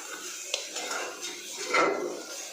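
A spoon stirs salt into sev usal cooking in oil in a metal pot, giving short scraping clinks against the pot's sides and bottom, close and fairly clear for a couple of seconds.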